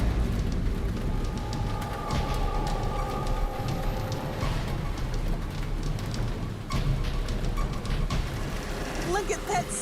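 Rain drums steadily on a truck driving at night along a dark, hilly, curving road in a winter storm, a continuous dense hiss with low road rumble that holds for the whole stretch.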